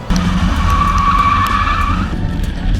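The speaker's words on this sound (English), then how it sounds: "we're going to attempt to have a burnout contest" Tires squeal hard in a car burnout from a Chevy Nova or Oldsmobile Omega, a loud, close, sustained screech over engine roar lasting about two seconds before easing off.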